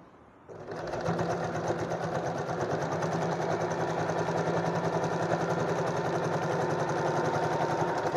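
A sewing machine runs steadily, stitching a lapped seam about 2 mm from a fold edge, starting after a brief quiet moment and then whirring on without a break and without talk.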